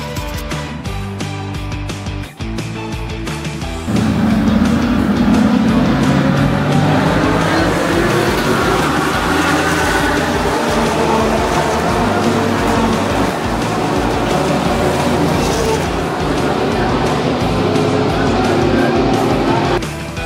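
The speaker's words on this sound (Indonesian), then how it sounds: "Kung Fu Chen led the cars down into turn 1" Subaru BRZ race cars charge down into turn 1 at a track event, a loud sustained roar of engines, quieter and choppier at first, then a dense continuous blare as the pack passes.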